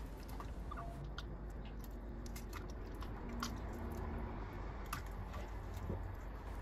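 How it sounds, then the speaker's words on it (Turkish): A hand works butter into a risen yeasted dough with an egg added, making faint, close, continuous squishing and sticky kneading sounds over a steady low background. "Elimle tereyağını karıştırıyorum."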